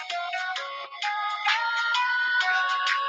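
Phone ringtone plays a bright, repeating electronic melody, loud and close, carrying on without a break for about three seconds with no voices over it.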